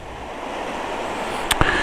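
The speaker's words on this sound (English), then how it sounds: "As you can see, the river's really running well." A strongly running river after stormy weather rushes in a steady, broadband roar close by, with a brief sharp knock near the end.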